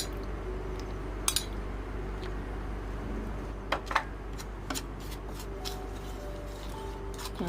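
Brown rice flour and glutinous rice flour stirred with water into a batter for fried chicken: soft scraping swishes with a few sharp clinks of a utensil against the bowl, over a low steady background hum.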